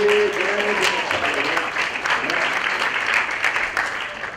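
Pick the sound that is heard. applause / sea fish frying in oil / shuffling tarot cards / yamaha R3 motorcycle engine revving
applause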